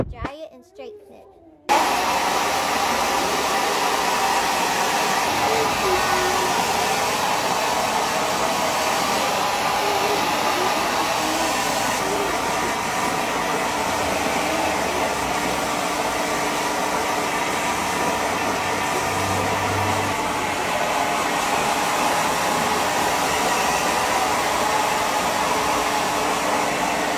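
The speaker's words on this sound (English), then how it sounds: "Now you have to dry it and straighten it." A hair dryer blows steadily and loudly on freshly dyed yellow and pink temporary hair color, a constant roar running almost the whole time after a short quiet start, with a voice faintly heard beneath.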